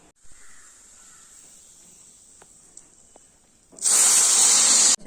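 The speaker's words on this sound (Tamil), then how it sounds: "பருப்பு வேக வச்சிருக்கோம். 4 விசில் வரட்டும்," A pressure cooker on the stove cooking chana dal and toor dal with water, turmeric and garlic, giving off a loud, close whistle that blasts at the end after a stretch of quiet background.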